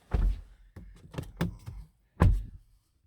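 Car door of a 2022 Toyota 4Runner Limited opening and thudding shut as someone climbs in, a few heavy thunks and rustles close up, with no talking.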